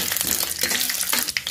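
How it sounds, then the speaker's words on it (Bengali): Peanuts frying in a pan for a potato fry, a steady close crackling sizzle with stirring scrapes running throughout, no voices. "তার জন্য কিছু বাদাম আছে, এটা ভেজে নিচ্ছি।"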